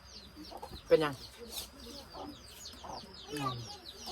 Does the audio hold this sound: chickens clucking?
yes